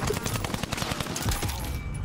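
Rapid automatic gunfire in Call of Duty Warzone, dense fast bursts of shots rattling continuously for about two seconds, loud and close.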